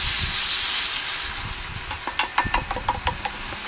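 Canned tuna with chili paste and sliced onion sizzles in a hot pan, giving a steady hiss, then a run of sharp scraping taps from the spatula as the mixture is stirred.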